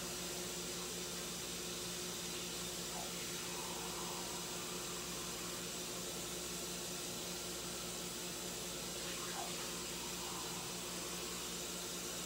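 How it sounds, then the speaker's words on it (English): Warm water runs steadily from a tap into a measuring cup while making yeast rolls, a soft, even hiss that holds for about twelve seconds over a faint background hum. "Put a cup of water in a measuring cup."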